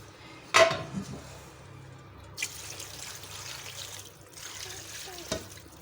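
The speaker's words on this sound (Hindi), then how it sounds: "अब मैं इसमें शामिल कर दूंगी 4 गिलास पानी के" Water is poured into a cooking pot with a short splash and trickle, followed by light clinks of metal cookware and another brief pour, while making lauki (bottle gourd) gosht.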